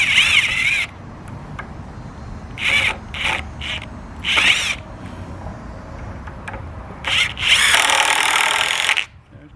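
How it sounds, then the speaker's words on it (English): Power drill driving screws into a wooden chicken nest box, several short whirring bursts in a row followed by a longer, louder final run, close up with no talk. "I put 4 screws in it total."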